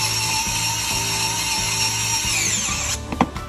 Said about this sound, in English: you just push the box in the wall and then you just tighten these screws